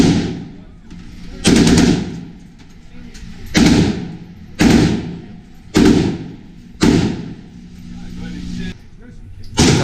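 A full-auto SAW machine gun chambered in 5.56 fires repeated loud bursts at an outdoor shooting range, five or six heavy rattling volleys separated by short pauses.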